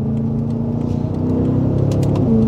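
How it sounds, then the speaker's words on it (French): A BMW M5 F10 Competition accelerating to overtake, a steady loud engine drone building slightly in pitch, heard from inside the car. "Je vous fais un petit dépassement."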